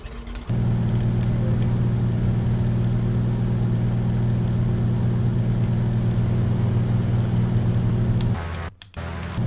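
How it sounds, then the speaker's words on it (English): Grumman G-21 Goose engine drone during descent in Flight Simulator X, a loud, steady, rough low hum that holds for about eight seconds and then cuts out briefly near the end. "The engine sounds really rickety on this, but it's nothing to be worried about."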